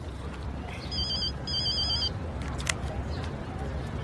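A telephone rings with two short electronic trill bursts, moderately loud over a quiet room, followed by a faint click.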